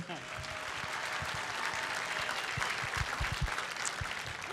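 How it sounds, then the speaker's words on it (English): An audience applauds at an event, a steady, dense wash of clapping that holds at an even, moderate level throughout with a few low thumps underneath. "A round of applause would be awesome."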